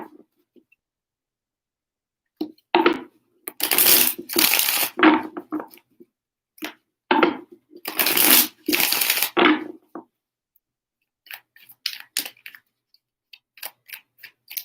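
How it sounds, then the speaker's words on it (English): Tarot cards shuffled in several brisk bursts, close and crisp riffling separated by short pauses, with a few soft taps and handling noises afterward. "Three shuffles for Scorpio."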